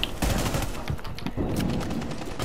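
Rapid gunfire in the Rainbow Six Siege video game rattles in dense, irregular bursts of sharp cracks, steady and fairly loud throughout.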